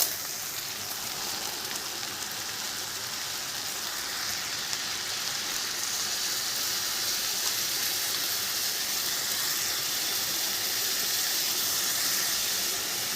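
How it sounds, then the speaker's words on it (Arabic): Chicken broth pours into a pot of freekeh with spices and saffron, giving a steady, even hiss and sizzle of liquid meeting the hot pot, continuous throughout with no talking. "وهنزل طبعا بالشوربه بتاعتي بتاعت الفراخ"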